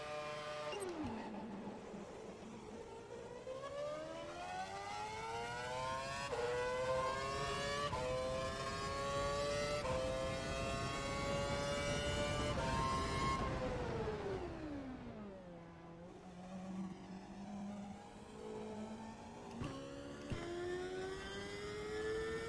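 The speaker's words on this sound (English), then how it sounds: "Head down the track, accelerating past 257 kph, then brake so that you come to a complete stop in the designated area" F1 2012 racing car engine on a test track, its pitch climbing through several gear shifts as it accelerates, then dropping sharply under braking before revving up again; loud and continuous.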